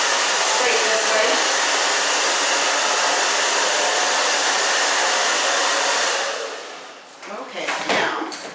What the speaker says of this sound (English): So you can see how I'm kind of drying it a little bit on an angle instead of straight this way.